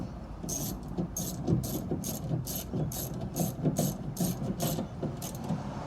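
A ratchet tightens a bolt on the rear door of a Mazda 3 during window glass replacement, a steady series of about a dozen crisp clicking strokes, close and clear.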